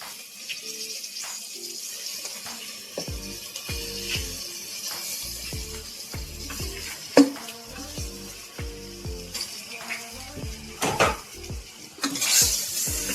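Raw chicken, a full kilogram, tipped into a masala in a pan for a Telangana-style chicken aloo curry, then stirred with metal clatter, scraping and light sizzling; repeated clanks of spoon against pan run throughout, close and fairly loud, with no talking.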